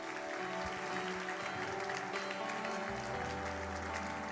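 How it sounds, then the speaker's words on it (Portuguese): A church congregation bursts into sustained applause, a dense continuous clatter of many hands filling the room for several seconds, with a low voice or music rising underneath near the end. "Alguém pode aplaudir ao nome do Senhor Jesus?"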